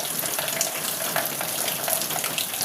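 A steady, loud wash of heavy downpour continues unbroken at night, the rainfall a thick constant roar with no one speaking.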